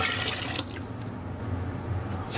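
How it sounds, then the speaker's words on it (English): Water running and splashing into a pot of yogurt while making kashk, a steady liquid rush with a low hum underneath. "And to our yogurt we're going to add in 4 cups of water."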